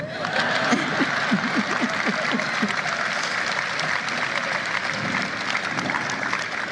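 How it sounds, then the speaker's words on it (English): A large audience in a formal political speech setting breaks into sustained, steady applause that fills the whole stretch at an even loudness, with some scattered voices mixed in. "That's an applause line."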